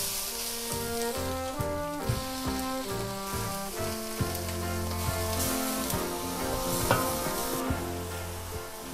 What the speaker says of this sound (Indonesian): kalau bumbunya sudah harum dan sudah tanak, saya akan masukkan ayamnya